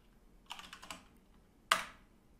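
A burst of quick keystrokes patters on a computer keyboard, then after a short pause one sharp, louder key strike lands, close and alone with no talking.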